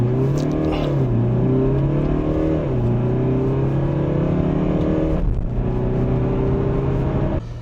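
A Mercedes-Benz GLE 300d 4Matic SUV's diesel engine pulls hard under full acceleration, its loud drone rising in pitch, dipping at gear changes and climbing again, heard from inside the cabin without talk.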